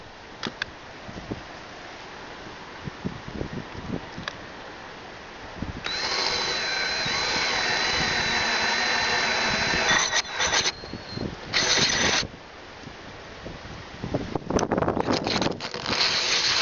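A power tool drills and cuts a hole for mounting an electric winch on a boat, sounding as a steady, loud whine from about six to twelve seconds, with brief bursts before and after amid handling knocks and wind.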